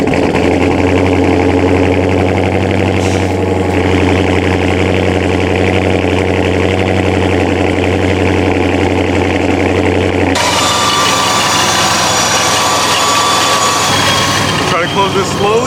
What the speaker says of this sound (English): Let me turn it on. Give you guys a cold start.